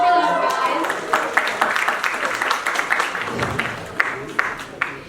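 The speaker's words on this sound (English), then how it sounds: "Give a round of applause for them," Applause from an audience at a school Fusion cultural event, loud and dense with sharp individual claps throughout, and a voice talking beneath it.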